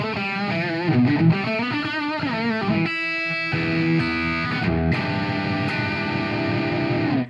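High-gain distorted electric guitar through a single-coil pickup with the coil tap pulled, playing sustained riffs and ringing chords, loud and continuous with a brief choppy break midway, no talk.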